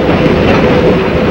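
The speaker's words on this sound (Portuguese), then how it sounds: "A Maria Fumaça tem incrível velocidade média de 30 quilômetros horários." The Maria Fumaça steam train runs along its railway with a loud, continuous rumble of wheels and carriages, a dense steady roar close at hand with no break.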